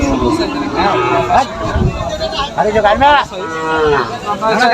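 Several calves moo repeatedly at the Garbari cattle market in Tangail, over a noisy crowd, with people talking and a general market babble all around.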